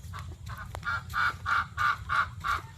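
Repeated nasal quacking from ducks at a duck-raising pond, about eight calls in a steady rhythm, moderately loud over a low rumbling background.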